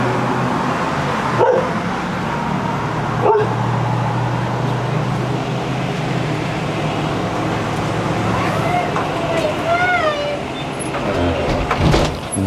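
A dog barks a few times outdoors beside a road, short sharp barks early on, with traffic noise and some whining or squeaky sounds later, while people talk nearby.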